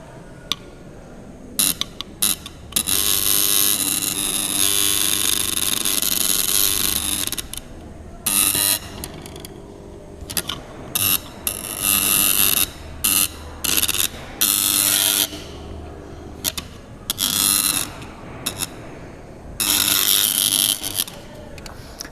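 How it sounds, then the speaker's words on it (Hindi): An AC electromagnet held near a knife gives off a harsh, loud buzzing hum that keeps starting and stopping in bursts of varying length, with brief silences between them. "तो यहाँ पर आप सुन सकते हो कैसे हमिंग का साउंड हो रहा है।"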